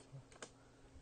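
Keystrokes on a computer keyboard come in a short burst of a few quick, soft clicks, then a faint background hum.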